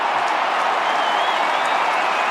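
Crowd roar at Perth Stadium during a West Coast versus Fremantle AFL match, a steady, dense wash of cheering from a large distant crowd with no break.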